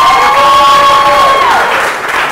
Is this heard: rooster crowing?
no